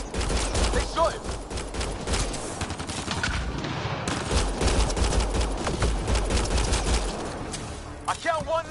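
Sustained gunfire in Mass Effect: Andromeda, a loud, dense stream of shots and bursts from several weapons in a firefight, with voices calling out over it and a few sharp cracks near the end.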